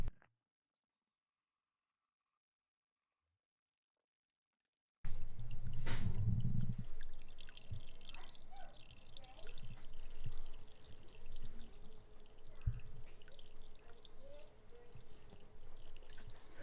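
Goat cheese curds set with lemon juice draining after being poured, a short splashy pour followed by faint, scattered drips over a quiet background.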